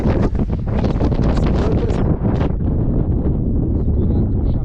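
Strong gusting wind buffets the microphone at Fortaleza Canyon in southern Brazil's highlands, a loud continuous roar with sharp bursts throughout, while a person speaks over it.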